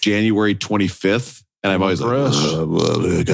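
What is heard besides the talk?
No everyday noises stand out.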